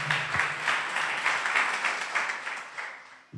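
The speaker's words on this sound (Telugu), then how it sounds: "గట్టిగా చప్పట్లు కొడదాం, ప్రభువుని స్తుతిద్దాం." Loud, continuous clapping from a church congregation at a Telugu Christian Sunday worship service, a dense burst of many hands sustained for a few seconds before stopping abruptly.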